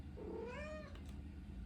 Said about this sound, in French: j'ai le chat qui vient de dire oui